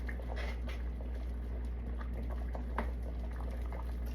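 Chicken soup being stirred in a pot, a steady low bubbling and liquid churning with faint soft clinks, close and continuous with no talk.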